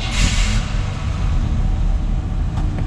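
A fuel-injected 1987 GMC Sierra R1500 shortbed pickup engine starts with a brief hissing burst and settles into a loud, steady, rumbling idle close by, with no talking.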